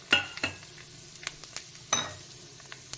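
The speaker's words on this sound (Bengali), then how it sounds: "যে কড়াইতে আমি তেল বসিয়ে দিয়েছি, গরম হয়ে গেছে, এবার আমি ঢেলে দিচ্ছি" Bay leaf, dried chili, cumin and panch phoron dropped into hot oil in a wok for khichuri tempering, giving a soft steady sizzle with sharp crackles and pops, a few louder bursts standing out, no talk.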